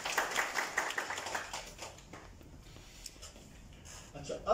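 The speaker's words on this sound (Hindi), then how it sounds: "तालियां यहाँ से साथ में।" A group of people clapping together during an emergency rescue training demonstration, with dense, fairly quiet clapping in the first two seconds that fades to a soft, scattered patter.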